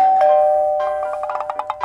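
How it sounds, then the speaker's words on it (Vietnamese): A doorbell rings inside a home, a clear electronic chime tone followed by a quick series of rhythmic repeated ding notes, fairly loud and alone without talk. "hình như có ai bấm chuông ấy nhỉ"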